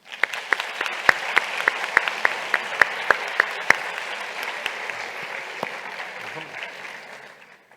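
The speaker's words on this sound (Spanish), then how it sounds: "Fuerte las palmas para nuestros invitados" An audience applauds panel guests at a university event, a steady bed of clapping with a series of sharp, close individual claps on top that fades out gradually toward the end.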